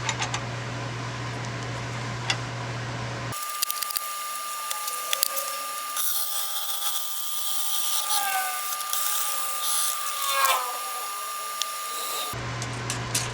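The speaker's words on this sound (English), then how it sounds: "we have to go wider before we can go deeper for these Forstner bits" A Forstner bit bores into cherry wood for a vase, a steady whirring drone with grinding, scraping bursts as the bit bites, running for several seconds between quieter stretches.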